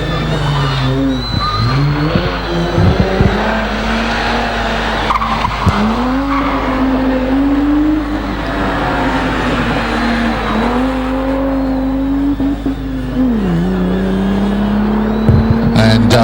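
A hillclimb race car screams through a chicane, engine note rising and falling sharply with gear changes as tyres squeal and skid, loud and close throughout the run.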